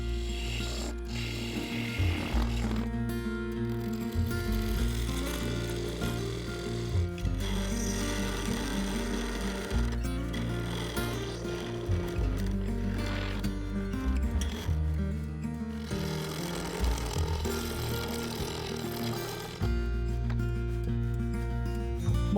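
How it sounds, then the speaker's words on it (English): A 1/4-inch parting tool cuts into cured purple resin set in an oak burl blank spinning on a wood lathe, making a continuous rough grinding and scraping over the steady machine hum. "The 1/4" parting tool was having a rough time cutting into it."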